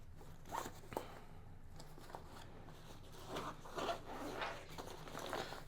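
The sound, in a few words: zipper of Thule Aion 40L backpack quick access pocket opened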